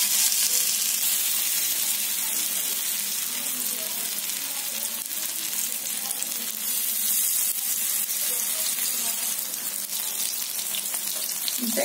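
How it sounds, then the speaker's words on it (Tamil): Pieces of fish fry in oil on a dosa pan, giving a steady, close sizzle and crackle that carries on without a break and without talk. "தோசை கல்ல எண்ணெய் ஊத்தி வச்சிருக்கேன் இப்போ மீன் துண்டுகளை ஒண்ணொண்ணா இந்த மாதிரி வச்சிடலாம்"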